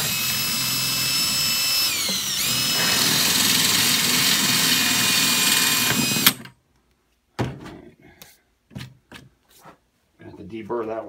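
A loud, steady power drill whines continuously for several seconds drilling holes in plastic buckets, pitch briefly dipping, then stops, leaving short bursts of quieter clatter and movement.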